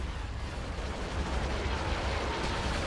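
Space battle gunfire in the Star Wars Republic at War mod: a continuous, dense roar of overlapping cannon and weapon fire, steady and loud throughout with no pauses.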